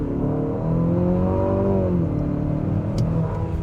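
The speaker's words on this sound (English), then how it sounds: "the sounds of the engine, not pleasant at all" A 2025 Infiniti QX60 SUV engine revs steadily and loudly, pitch rising and falling as it accelerates from a standstill, with a continuous low rumble throughout.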